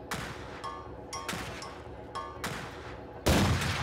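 Gunshots fired at a shooting gallery in the video game Highly Likely: several sharp reports spaced about half a second to a second apart, with a louder, fuller shot near the end, no voices.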